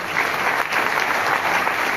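Enthusiastic audience applause at a Vestige marketing event in Delhi, a loud, dense wash of many hands clapping steadily throughout without pause.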